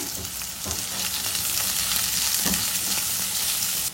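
Sliced onion frying in a pan, a steady close sizzle that holds throughout, with occasional soft stirring knocks and no voices.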